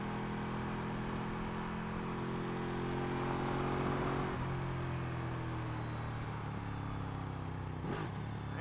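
A Ducati 1299 Panigale S motorcycle engine drones under riding wind, its pitch shifting as it revs and downshifts, with a brief burst near the end; no talk.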